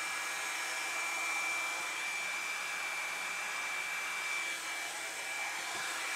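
A Hot Tools Professional One-Step Blowout Styler hair dryer runs steadily, a close, constant high-pitched whirring hiss with a faint whine that stays even for the whole stretch, with no talking.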